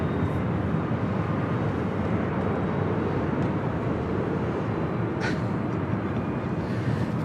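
A Delta Airlines Boeing 767-300ER jet airliner departing LAX, heard as a continuous loud, deep engine roar that holds steady across the whole stretch with no talk over it.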